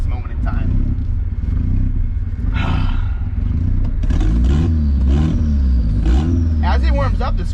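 Modified Mazda Miata engine idles roughly as it warms up, a loud close-up rumble with uneven revs rising and falling, while people talk nearby over it.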